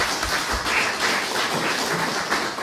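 Audience at a local planning agency meeting applauding after a unanimous approval vote, a steady, moderately loud patter of many hands clapping throughout, with no voices.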